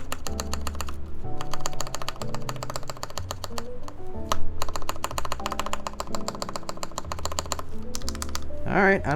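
Keys tapped one by one on a Hand x Monokei Kage prototype mechanical keyboard, checked for rattle, giving close, steady clicks and clacks over constant background music, with a voice talking at points.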